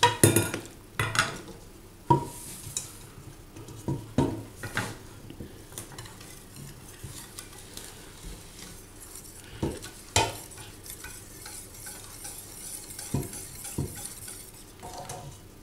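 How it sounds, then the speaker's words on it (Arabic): Zgougou cream, made from Aleppo pine seeds, being stirred and poured through a sieve in a home kitchen: irregular clinks and scrapes of a spoon against metal, with occasional sharper knocks, close and moderately loud, no talking. "ونحركو ونصبو ونحركو ونصبو في نفس الوقت"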